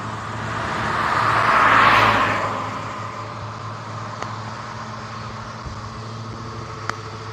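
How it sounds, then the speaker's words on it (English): A car passes on the road: its tyre-and-engine whoosh swells to a peak, then fades. A low traffic hum lingers, with a few faint clicks and knocks near the end. "There's cars are going past."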